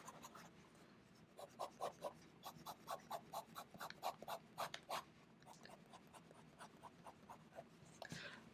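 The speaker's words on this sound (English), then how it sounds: "Some fast writing. Yeah, it's not liking the fast writing too much." Parker Duofold Centennial fountain pen nib scratching quickly across paper, a rapid run of short scritching strokes, close and quiet, with a pause near the end.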